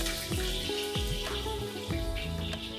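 Thinly sliced onions dropped into hot oil for pulao, a dense crackling sizzle with splashy, bubbling bursts throughout, close and fairly loud, with no talking.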